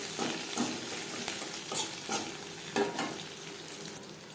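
Curry pakora kadhi gets stirred in a pot over a low gas flame after chopped green chilli and curry leaves go in, a close, steady sizzle with repeated spoon scrapes and soft knocks against the pan.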